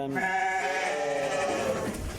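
Welsh mountain sheep and lambs bleat nearby, one long wavering call overlapping others, loud and continuous for about two seconds without any talk.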